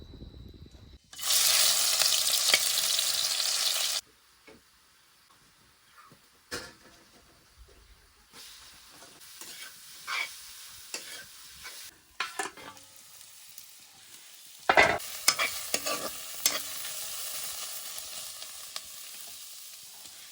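Boiled, squeezed bamboo shoot frying outdoors in a field, opening with a loud burst of sizzling as it hits the hot oil, then a quieter steady crackle with scattered scraping and stirring clatters.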